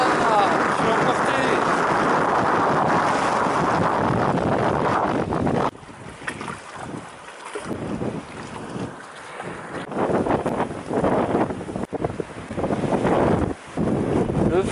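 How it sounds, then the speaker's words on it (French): Strong, cold wind buffets the microphone outdoors near southern marshes and water, a loud continuous roar for several seconds that then drops into gusty bursts, with someone talking over it. "Ça fait pas semblant le vent."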